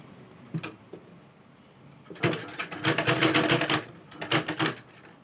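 A sewing machine stitches green and white fabric together for a child's frock, with a few faint ticks followed by two close, rapid clattering runs, the longer one lasting nearly two seconds.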